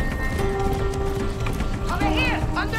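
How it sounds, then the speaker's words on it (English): Horse hooves clip-clop at a gallop while riding in Far Cry 6, a steady rhythmic patter close by, mixed with game music and effects. "Kind of preoccupied by the whole riding a horse thing that I'm doing currently."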